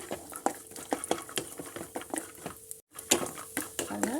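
Walnuts being stirred and roasted in a pan, with repeated rhythmic scraping and clattering of a utensil against the pan and the nuts rattling, close and moderately loud, with a brief silent gap midway.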